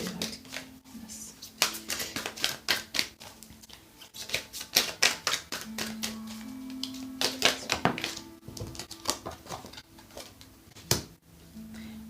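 Tarot cards are shuffled and drawn, giving a busy stream of sharp card taps, flicks and snaps at an uneven pace, close to the microphone, with a faint low hum underneath.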